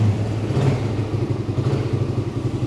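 Suzuki Satria FU motorcycle engine idling nearby, with a close, rhythmic low burble and a slight clatter that pulses evenly throughout, heard without talk over it.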